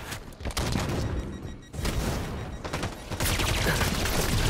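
Loud, continuous automatic gunfire in Halo 5, with rapid bursts and a short pause before the shooting resumes.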